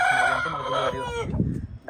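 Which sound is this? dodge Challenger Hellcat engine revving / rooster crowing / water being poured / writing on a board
rooster crowing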